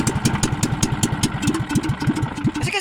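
A boat engine idles on the water with a steady low chugging beat, close and fairly loud, with no talk over it.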